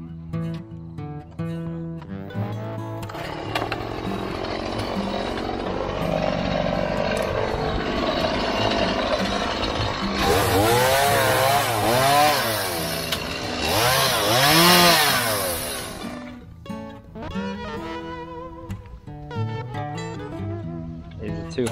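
A power saw cuts a grass-fed steer carcass into quarters after halving it through the backbone, giving a loud, sustained whining buzz that rises and falls in pitch, with voices talking nearby.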